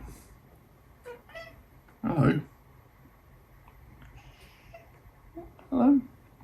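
A house cat meows twice, a few seconds apart, fairly close and clear, with someone speaking briefly and quiet room tone in between.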